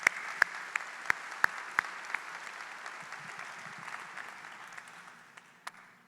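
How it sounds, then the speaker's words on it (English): Applause at a Class of 2020 high school graduation commencement ceremony, a steady wash of clapping from the gathered crowd, with a few sharp close claps standing out at the start, slowly fading away. "So a round of applause for them, please."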